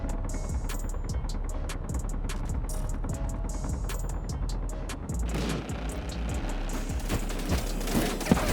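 Sustained gunfire in the space game Space Engineers: dense rapid automatic shots rattling continuously at high level for several seconds, over a low rumbling hum, with no talk.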